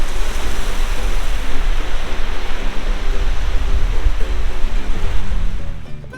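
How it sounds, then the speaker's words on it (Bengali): Sea waves roar steadily at Kargil beach in Bakkhali at high tide, with the water close by. The surf makes a loud, continuous broadband wash that swells and settles without a break. "সমুদ্রের গর্জন আর ঠান্ডা বাতাস, একেবারে মনোমুগ্ধকর পরিবেশ।"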